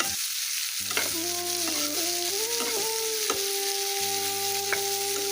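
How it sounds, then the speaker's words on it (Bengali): Onions fry with salt in a pan, giving a constant soft sizzle with occasional stirring knocks, while sustained musical tones run through the background. "পেঁয়াজ ভাজার সময় যদি আমরা একটু লবণ দিয়ে দিই তাহলে পেঁয়াজটা এমনিতেই নরম হয়ে আসে"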